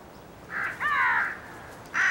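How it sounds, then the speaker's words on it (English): Crows cawing on a Himalayan mountainside as winter snows melt, three harsh calls close by: a short one, a longer drawn-out caw, then another starting at the end, with no talk. "Crows arrive first."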